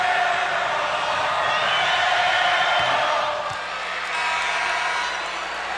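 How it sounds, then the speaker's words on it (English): Basketball arena crowd in a Detroit Pistons versus Orlando Magic game keeps up a loud, steady roar of chanting and cheering, dipping slightly midway before swelling again. "Crowd calls air ball."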